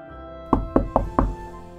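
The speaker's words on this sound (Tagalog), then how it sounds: "Pagkatapos ay dali-dali siyang bumalik at kumatok muli." A wolf in an animated fairytale knocks on a door four times in quick, even succession, each rap loud, close and hollow-sounding against a quiet background.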